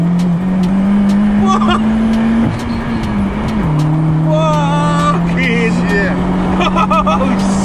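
A VW Caddy Mk2 sleeper built to 1000 bhp accelerates hard. Its loud engine note climbs steadily, drops sharply at a couple of quick gear changes, then pulls again, with excited voices talking over it.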